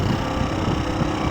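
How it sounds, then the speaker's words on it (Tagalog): A motorcycle engine running on a rural farm road, a steady close low rumble mixed with wind buffeting the microphone. "Patakbo ng motor."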